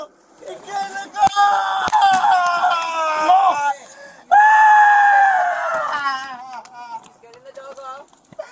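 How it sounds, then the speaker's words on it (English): A man screams loudly and desperately while a police dog holds him during an LAPD arrest, with long wavering cries broken by short gaps and other voices shouting nearby. "stop screaming."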